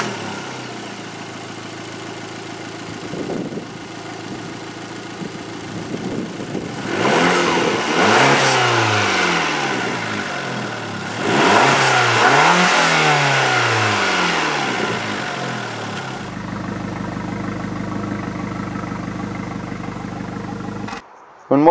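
An Abarth 500 esseesse with a 1.4-litre T-Jet turbo engine idles, then revs sharply several times, each rise climbing and falling back, loud and close, before settling into a steady idle.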